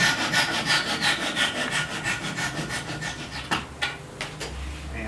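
A hand saw trims wooden tenons in steady, rhythmic back-and-forth strokes, close and fairly loud, ending with a few sharp scraping ticks.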